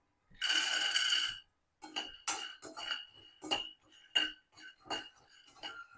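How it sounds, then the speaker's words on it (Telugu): Peanuts roasting in a pan, tossed and stirred: a rattling burst of nuts shaken in the dry pan, then a series of separate clinking scrapes and taps at irregular intervals, close and fairly quiet. "ముందుగా ఇప్పుడు వేరుశనగ గుళ్ళు వేయించుకుందాము"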